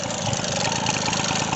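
A Motoconfort AU88 moped with a variator engine idling, a steady close rattling two-stroke putter with an even, continuous drone.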